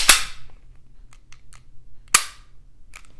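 Two sharp gunshots from a Smith & Wesson CSX double-stack micro 9mm pistol, each a loud crack with a short ringing tail, about two seconds apart, with faint clicks between.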